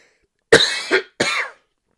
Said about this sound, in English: Sorry, I was just coughing there